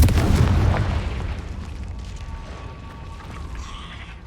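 A loud, deep boom from the Confringo spell explosion in Hogwarts Legacy, inside a cave, opening the sound with a heavy burst that slowly decays into a rumbling tail and faint ambient tones.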